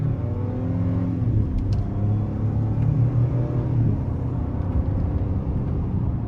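Ford F150 XLT 2.7-liter twin-turbo V6 pickup in sport mode with manual mode engaged, a steady deep engine rumble with rising and falling harmonic tones as it accelerates, heard from inside the cab with no talking.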